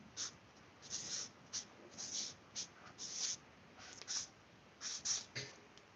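Marker or pen writing a label on a package, short scratchy strokes in uneven bursts, close and quiet.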